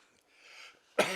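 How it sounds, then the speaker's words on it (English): A single sharp cough bursts out at the end after a moment of quiet, faint throaty noise. "I've had this cough about a year now"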